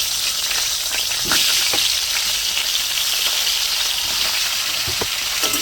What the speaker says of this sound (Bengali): সেই তেলের মধ্যে আমি ফুলকপিটাকে ভেজে নেব।